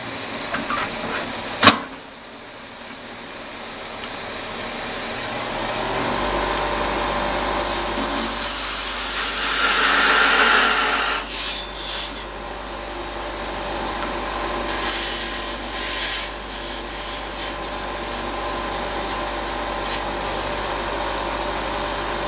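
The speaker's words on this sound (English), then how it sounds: "I'm going to use a parting tool and actually part that off nice and level." A parting tool cuts into spinning wood on a lathe, giving a sustained scraping, rasping whine that builds and eases, with a steady motor hum underneath and a sharp knock near the start.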